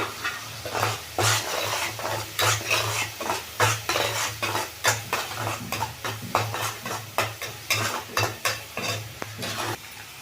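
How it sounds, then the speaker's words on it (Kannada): Onion paste frying in a pan, a steady sizzle under repeated, rhythmic scrapes and clinks of a spoon stirring against the metal, close and fairly loud throughout with no talking. "ಈರುಳ್ಳಿ ಪೇಸ್ಟ್ ಚೆಂದಾಗಿ ಫ್ರೈ ಆಗಬೇಕು"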